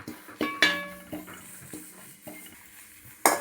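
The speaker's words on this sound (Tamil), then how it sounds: "பாருங்க நல்லா கருவேப்பிலையும் வறுபட்டுருச்சு" Curry leaves and moringa flowers are dry roasted without oil in a metal pan, heard as a series of close clanks and scrapes from a spoon against the pan with faint crackling between, no talking.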